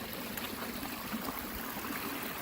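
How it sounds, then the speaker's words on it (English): A small creek flows steadily, its water trickling and babbling in an even, close wash with no voices over it. "Dropping off into this little creek area. This always seems to have water in it."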